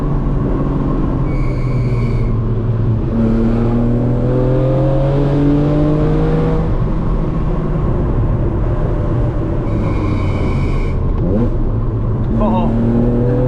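A BMW Z4 M Coupe engine revs while driving, rising and falling through several gear changes with rev-matched downshifts, loud and steady from inside the car, with occasional voices over it.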